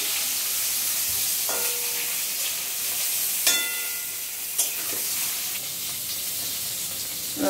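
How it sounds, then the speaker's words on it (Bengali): Eggplant slices sizzle in oil in a pan during sukto preparation, a loud, bright continuous hiss with a few sharp clinks of a utensil against the pan. "বেগুনটা ভাজা দিয়ে দিচ্ছি।"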